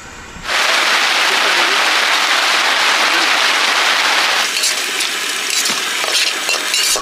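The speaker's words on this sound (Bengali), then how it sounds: "পেঁয়াজটা ভাজা হয়ে গেছে" Loud, dense sizzling of onions frying in a hot pan begins abruptly and continues steadily, with occasional crackles and stirring clicks toward the end.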